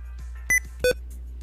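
Two short electronic censor beeps cut over a live stream, each a brief bright tone about a third of a second apart, standing out over a low background hum.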